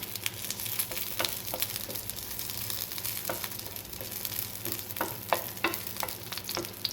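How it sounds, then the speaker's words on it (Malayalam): Tamarind and curry leaves fry in hot oil with a close, crackly sizzle. Frequent sharp pops and spatula stirring scrapes run through it, and no one speaks. "അപ്പോൾ അത് നമ്മൾ ആ എണ്ണയിൽ വറുത്തെടുക്കുകയാണ് അതിലേക്ക് കുറച്ച് കറിവേപ്പില കൂടെ ഇട്ടു"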